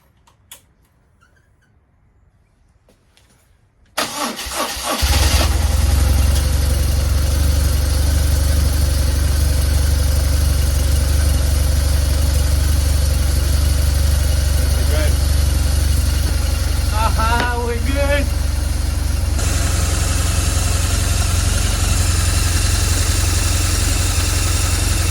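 A BMW GS 1200 motorcycle, just repaired after a hose clamp fault near a fuel quick disconnect, cranks and starts after a few quiet seconds, then idles loudly and close with a steady rumble and a ticking rhythm.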